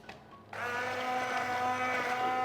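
An electric blender kicks in after a brief quiet moment and runs steadily, whirring loudly as it mixes sugar for Italian-method macarons in a home kitchen.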